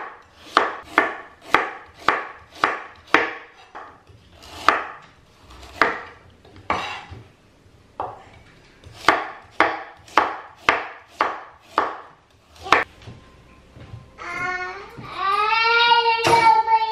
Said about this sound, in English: Top and tail, into three, and some nice thin slices.